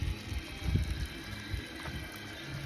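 Water runs from an expandable garden hose in a garden, a soft steady splashing flow with a few small gushes, close by and heard alone.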